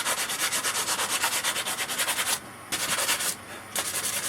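A wooden branch flute is rubbed briskly against a leg, giving a loud rhythmic scraping that repeats in quick even strokes with two short pauses.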